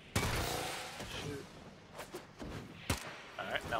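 Gunfire in the Warframe video game, with a few sharp weapon shots and bursts scattered among jumping and movement sounds while someone talks over them.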